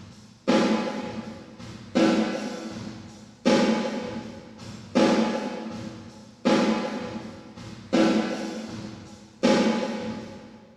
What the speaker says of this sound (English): we played the dry audio through that preset and recorded the outputs of the unit.